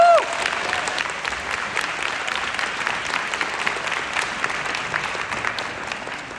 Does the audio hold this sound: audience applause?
yes